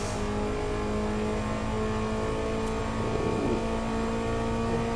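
A Bugatti EB110SS in the Test Drive Unlimited 2 racing game accelerates hard, its engine a loud, continuous high-pitched roar that stays steady and close for the whole stretch, with no talking.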